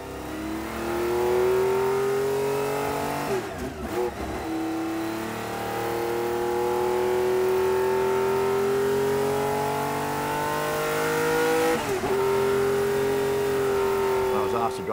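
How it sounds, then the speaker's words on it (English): The Traco-rebuilt V12 of a Ferrari 512 M race car holds a loud, close, sustained drone whose pitch climbs slowly, broken by two brief dips as it shifts gears. "But the V12 just sounds absolutely fantastic."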